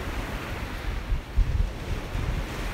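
Steady surf and mild wind at a beach on a chilly morning in the 40s, a continuous low wash of waves with gusty wind rumble on the microphone and a few louder swells.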